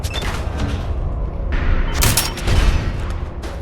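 Gunfire in Fallout 4, a couple of loud close blasts and crackling bursts over a busy game battle, with no clear talk.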